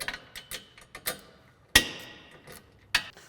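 A socket wrench tightens bolts on a Polaris RZR RS1 sport side tire carrier, using a 13mm socket with a 5mm Allen key. Scattered close metallic ticks and clicks are broken by two sharper knocks, with no voices.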